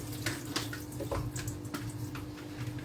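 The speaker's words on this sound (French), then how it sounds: "Je les rince un peu." Potatoes are rinsed under a running kitchen tap, a steady close stream of water with a few soft knocks and splashes as they are handled, and no talking.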